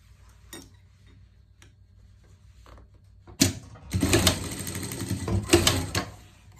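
A sewing machine stitching a pet parka: after a quiet stretch with a few faint clicks, a dense mechanical run of stitching starts and continues in close, rattling bursts to the end.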